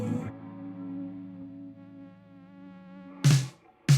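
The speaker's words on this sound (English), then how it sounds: "I like that little buzz. Sounding like a bumblebee." A bumblebee-like buzzing tone hums through a song. It holds steady for about three seconds, then sharp loud bursts from the track break in.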